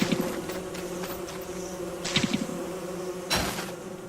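A swarm of bees in the Don't Starve video game, a continuous buzzing drone broken by a few sharp clicks and brief bursts of noise.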